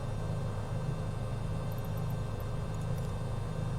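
A simulated airplane engine in Flight Simulator drones steadily throughout with a constant low rumble and hiss, fairly quiet and unbroken, with no talking.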